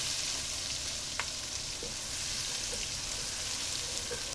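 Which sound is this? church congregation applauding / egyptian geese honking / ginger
ginger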